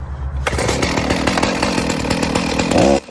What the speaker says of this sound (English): The weapon of choice? Chainsaw!